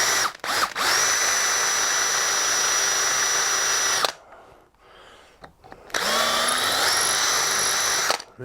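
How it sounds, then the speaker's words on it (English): A sharp bit in a power drill bores into a car wiper linkage: a loud, steady, high whine for about four seconds, a brief pause with faint handling, then a second sustained run of drilling. "This is a nice sharp drill, but possibly too sharp."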